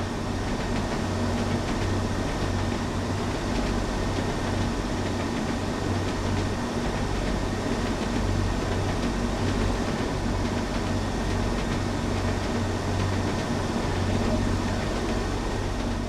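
Train on the North Trans-Pennine route in Train Sim World 2020, a steady low rumble and engine hum with rail noise, continuous and fairly loud throughout.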